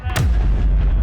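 A single loud, close explosion bursts out and leaves a heavy low rumble that decays across the short moment, with nobody talking.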